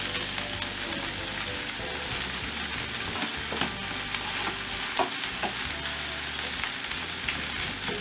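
Egg stirred into pork fried rice in a hot pan: a loud, continuous sizzle broken by scraping stirs and small crackles, with no voices.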